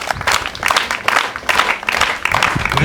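An audience at a ceremony claps for itself at a speaker's invitation, a dense burst of many hands applauding at moderate volume, rising and falling in waves.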